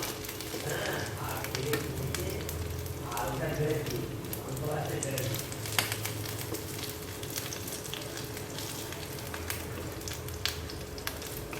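Spicy chicken fries in a pan with a constant crackling sizzle, dotted with sharp pops and light utensil clicks throughout.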